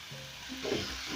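Marinated pork sizzles steadily in a pan for a wet fry, a soft continuous frying hiss with a light stir partway through, fairly quiet and with no talking.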